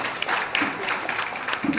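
A crowd of students and guests applauds at a college annual cultural function, a continuous rippling patter of many hands at moderate loudness, with faint voices mixed in.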